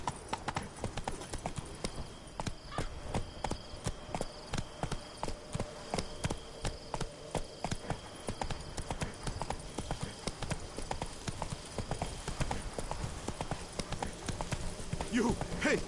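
Rapid, rhythmic hoofbeats of Roach, the horse in The Witcher 3: Blood and Wine, galloping steadily and close, with game music and voices over the top.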